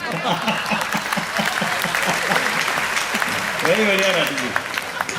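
An audience claps through a Hindi satirical comedy performance, dense steady applause mixed with crowd noise while a voice speaks and sings over it.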